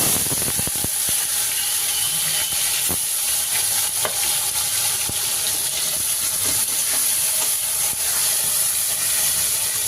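Bitter gourd coated in salt, turmeric and chilli powder fries in hot oil, a loud continuous sizzle and hiss with occasional stirring clinks and scrapes in the pan.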